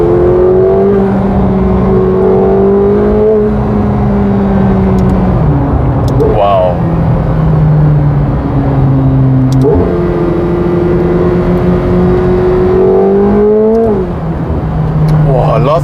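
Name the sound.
McLaren 750S V8 engine revving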